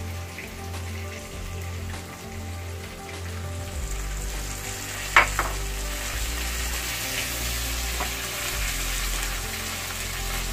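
Vegetables added to a pan with boiled onion and chili, giving a steady sizzling fry throughout, with a louder hiss and a couple of sharp spatters in the middle.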